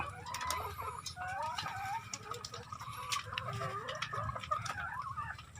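Laying hens on a farm cluck close by in overlapping, rhythmic bursts, a busy flock chattering steadily, with possible faint human sounds underneath.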